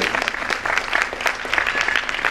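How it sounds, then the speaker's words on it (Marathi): Audience applause breaks out for Shripadji at a school's annual function, a lively, continuous patter of many hands clapping close by with no talk over it. "त्यासाठी श्रीपादजींसाठी आपण टाळ्या वाजवल्या"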